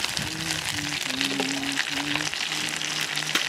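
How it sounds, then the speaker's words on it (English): Dehydrated onions fry in oil with a little butter at a Devils Canyon campsite, giving a soft, steady sizzle with a faint tonal hum and no clear talk. "Been cooking in the oil. A little bit of butter."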